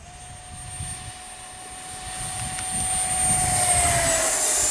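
A Freewing Hawk T1 Red Arrow 6S 70mm EDF model jet flying past, its high-pitched ducted-fan whine rising in loudness and dipping slightly in pitch as it passes, with wind noise underneath.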